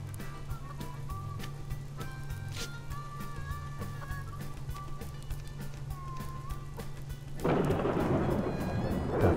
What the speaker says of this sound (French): il pleut à l'extérieur